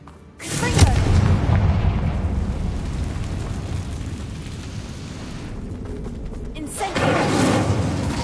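The Confringo explosive spell goes off in Hogwarts Legacy as a loud, deep blast that rumbles and fades out slowly, and then a second burst hits near the end.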